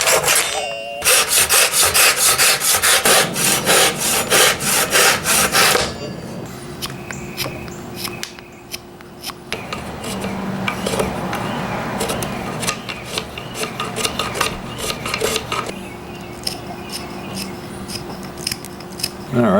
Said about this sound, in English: I'm also going to sand this just to make it a little bit more consistent with the neck